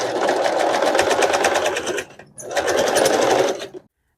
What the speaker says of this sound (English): I'm going to do a top stitch all the way down the strap